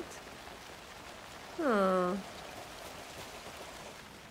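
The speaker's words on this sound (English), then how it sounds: "I'm gonna turn up the volume a little bit because the rain sounds so cozy" Steady soft rainfall in the video game Alan Wake 2 hisses throughout, with a brief murmured vocal sound rising above it partway through.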